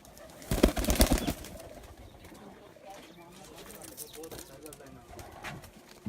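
Pigeons from a rooftop loft coo during a racing tournament, with a brief flurry of louder sounds early on, then soft calls and wing activity under intermittent talk.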